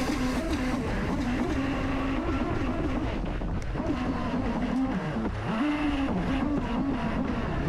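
A 3D printed 8s jet boat running on a pond, its motor whining steadily with small pitch dips as throttle changes, heard close with wind buffeting the microphone.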